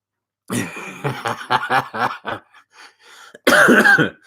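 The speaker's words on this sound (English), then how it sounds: "I'm coughing a lot at the minute." Several rough coughs come in a quick series at close range, followed by a pause and then a louder burst of coughing.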